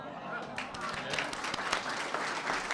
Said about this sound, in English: I want to give applause for the maintenance.